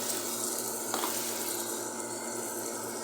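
Bitter gourd and onions frying in a pan, a steady close sizzle and crackle with faint stirring scrapes running throughout.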